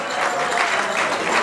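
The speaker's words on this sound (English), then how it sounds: "Let's give our caterer a round of applause." A room of guests at the Bowtie Bash event in Miami applauds the caterer, giving a brief burst of dense, steady clapping with no voices.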